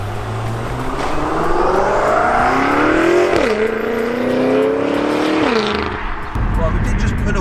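A BMW F10 M5 pulls away and accelerates on the road, its engine note rising through gears with audible shifts, heard close from inside the car under a steady road roar.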